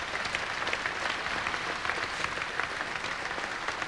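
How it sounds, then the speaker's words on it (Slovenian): An audience at an outdoor folk event beneath a hayrack applauds a local craftsman, Mr. Pungarčar. The clapping is full and continuous, a steady wash of many hands with no talk. "En aplavz za gospoda Pungarčarja."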